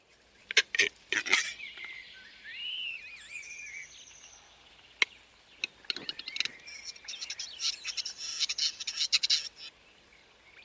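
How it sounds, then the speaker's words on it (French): Male western capercaillie singing in the wild, a series of sharp dry clicks and pops followed by rapid rattling, gurgling notes and whistled phrases, fairly close in a quiet forest. "Le chant du grand tétras"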